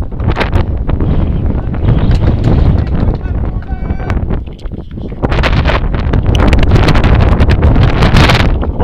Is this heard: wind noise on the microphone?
yes